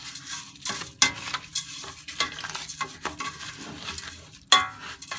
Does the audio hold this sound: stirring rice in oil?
yes